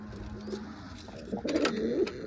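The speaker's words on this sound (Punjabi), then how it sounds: "ਇਹ ਹੈ ਡੋਲੀ ਵਾਲੇ ਆਪਣੇ ਕਬੂਤਰ" Pigeons coo in low, soft, rolling calls, growing fuller toward the end, with faint background noise and no talking.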